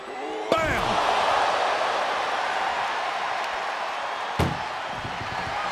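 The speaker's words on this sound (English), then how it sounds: "Doing their best just to shut that first door" An ambulance door slamming shut during a WWE 2K wrestling match, two sharp metallic bangs a few seconds apart over steady crowd noise, with a commentator talking between them.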